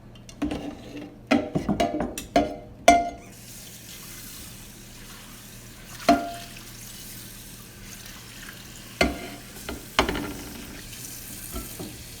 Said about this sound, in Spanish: Voy a lavar el pollo para poderlo hervir con agua y ajo.